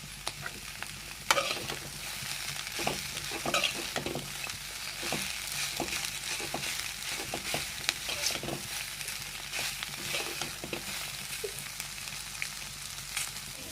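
Shredded cabbage and capsicum fry in a pan for egg fried rice while a spatula stirs steadily, giving a continuous close sizzle broken by frequent scraping and clinking strokes, with no talk.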